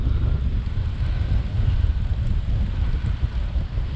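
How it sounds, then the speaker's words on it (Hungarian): Strong, gusty wind blows at a Greek beach, a dense, rumbling roar buffeting the microphone throughout with no talking. "Ismét viharos a szél."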